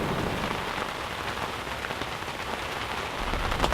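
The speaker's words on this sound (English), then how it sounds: "The cumulus clouds have lowered, and it's resulting in a lot of rain." Heavy rain pours steadily onto surfaces near an Iowa cornfield as lowered cumulus clouds pass over, a dense even hiss with no talking and no breaks.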